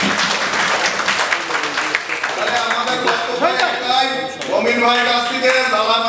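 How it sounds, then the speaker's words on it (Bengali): Audience at a general meeting of a Bangladesh union council administrative officers' association claps together for the committee, a dense continuous applause with voices and a loudspeaker speaking over it in the second half. "সবাই আমরা একটা তালি দিয়ে কমিটিকে অভিনন্দন জানাই"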